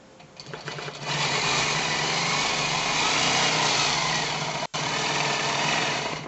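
A longarm quilting machine's motor starts after a second and runs as a loud, steady whirring hum close by, with one brief cut-out partway through.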